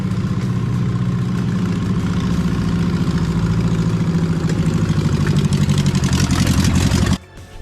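A VW bus engine runs loud and steady at close range, a rough, throbbing rumble with a rapid pulsing beat that holds for several seconds before cutting off abruptly.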